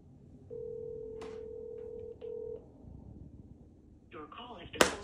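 A phone call goes out during a prank scare: a long steady ringback tone sounds through light room noise, broken by a short pause and a second shorter tone, with a brief voice and a sharp noise near the end.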